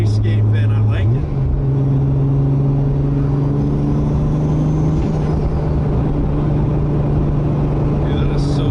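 A Toyota Supra's turbocharged engine holds a loud, steady drone close by, with a wastegate fitted, its pitch rising slightly as it revs, with a brief whoosh near the start.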